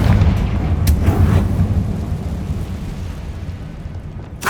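A Confringo fire spell blasts in the Hogwarts Legacy video game, a heavy, booming, rumbling explosion that starts loud and slowly fades, with a sharp burst at the very end.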